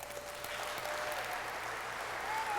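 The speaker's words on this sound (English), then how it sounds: "Please give a big round of applause" Sustained applause from a large crowd at the E3 2008 Activision press conference, dense and even clapping filling the space without pause.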